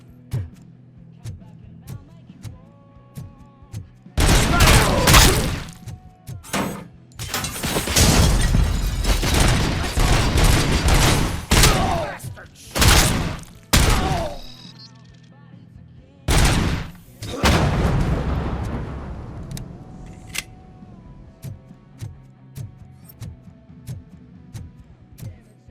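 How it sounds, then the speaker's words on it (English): Intense bursts of gunfire and impacts in the RoboCop Rogue City video game, loud and close, coming in repeated volleys with short quiet gaps between them and brief voices shouting amid the firefight. "Shoot them up!"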